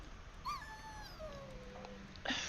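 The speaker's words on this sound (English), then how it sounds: "Poor bloody doggy." A dog in Dragon Age: Origins gives a thin, high whimper that slides downward in pitch, close and fairly soft, over a low ambient hum, followed by a short rustle.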